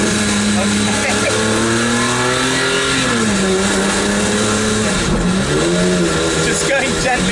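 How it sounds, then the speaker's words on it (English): A Maserati MC12 V12 engine climbs gently through the revs on a low-speed drive, a loud, rising and falling mechanical howl with a steady rasp, close and continuous, with a voice talking over it. "Just going gently up through some revs. It sounds insane."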